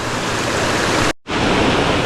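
Creek running high on a hiking trail along the Long Trail, a dense steady rush of water, loud and close, broken by a brief cut to silence midway.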